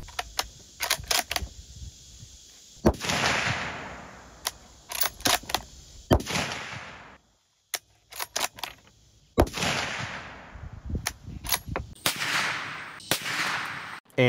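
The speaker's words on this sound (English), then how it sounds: "So let's go ahead and shoot it." A 350 Legend rifle firing Federal PowerShok 180-grain soft point rounds into ballistics gel, several sharp loud shots spaced apart, each with a decaying echo, interspersed with clicks and mechanical handling noises.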